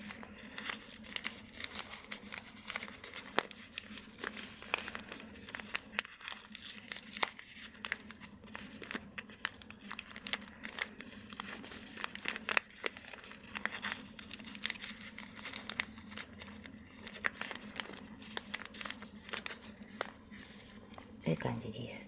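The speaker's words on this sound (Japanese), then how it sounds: "折るたびにこういうギュッギュッとして整えながら折ってください。" Origami paper is folded and creased firmly by hand while making a hexagonal gift box, with repeated crinkles and crisp snaps scattered through a steady quiet background and a voice talking softly throughout.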